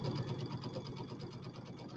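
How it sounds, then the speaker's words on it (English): A Dream Machine sewing machine runs fast while piecing a quilt, giving a rapid, even mechanical chatter that holds steady for two seconds. It sounds close and moderately loud, with no talking. "This machine sews so fast."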